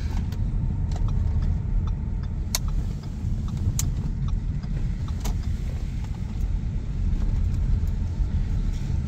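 A Ford Focus Electric drives around the block, heard from inside as a steady, loud low road rumble with occasional small clicks and rattles throughout.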